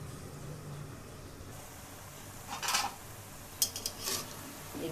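Kalmi greens (water spinach) are stirred and turned in a pan with a utensil, giving a few soft scrapes and clinks over a low background hiss.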